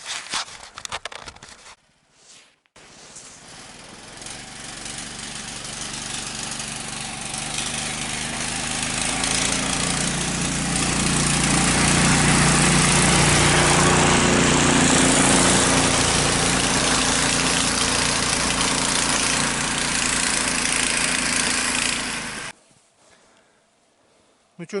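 A Uragan off-road vehicle's engine drives through deep snow in the taiga, a loud continuous low drone that builds and holds, then cuts off near the end, with brief sounds before it starts.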